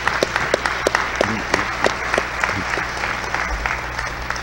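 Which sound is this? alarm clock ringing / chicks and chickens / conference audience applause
conference audience applause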